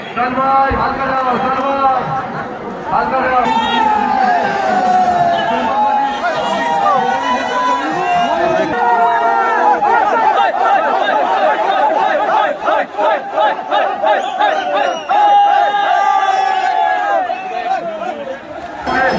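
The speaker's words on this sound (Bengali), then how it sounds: "আর কত মানুষের ভিড়টা খালি দেখো" A dense crowd of worshippers chatters loudly and continuously around the Ghanteshwar Shiva temple at Khanakul, a steady wall of overlapping voices with occasional shouts rising out of the din.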